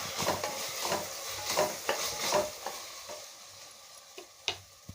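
Sliced onions sautéing in a pan for chicken biryani, a close sizzle with repeated spatula scrapes and stirs that thin out into a few sharp taps on the pan.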